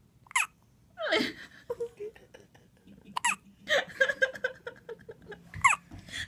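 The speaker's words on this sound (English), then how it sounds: "He's got hiccups? Oh. It's a hiccup." A young child hiccups several times, short sharp bursts spaced a second or two apart, heard up close with adults talking softly around them.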